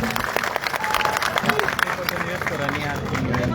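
A crowd at a protest site applauds the chief minister, steady clapping mixed with cheering and crowd babble, loud and close throughout.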